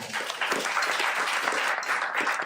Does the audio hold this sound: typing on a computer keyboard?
no